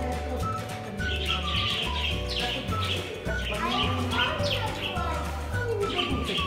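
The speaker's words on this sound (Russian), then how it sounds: "Здесь у нас птички, попугайчики и маленькие птички Амадины." Parrots and small Amadina finches in a petting zoo aviary give steady, overlapping chirps and tweets, with people talking nearby and an indoor mall hum underneath.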